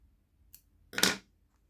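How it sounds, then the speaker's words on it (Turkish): Scissors snip through yarn while crocheting a daisy-pattern bath scrubber, giving one short, crisp cut close to the microphone, preceded by a faint small click, in an otherwise quiet room. "Ve ipimi oradan kesiyorum."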